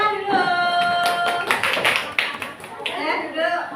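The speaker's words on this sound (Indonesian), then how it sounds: "Tepuk tangan dulu." Children clap in a classroom, a short burst of hand claps mixed with lively young voices calling out over the top.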